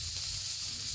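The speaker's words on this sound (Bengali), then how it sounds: "এই যে দিয়ে দেবো পেঁয়াজ কুচি," Chopped onion hitting hot oil seasoned with black cumin seeds, a loud, continuous close hiss of sizzling frying.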